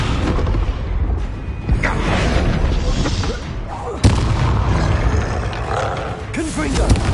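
A Descendo spell impact from the video game Hogwarts Legacy lands as a loud, sudden boom amid a dense roaring rumble of spell effects, with a sharp hit near the middle and another toward the end.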